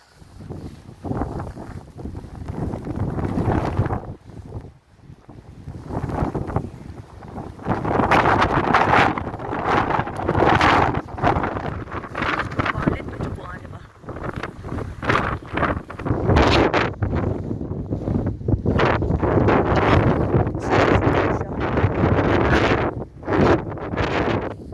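A snowstorm in Svalbard sends gusts of wind roaring in loud, buffeting surges against the microphone, rising and dropping for nearly half a minute.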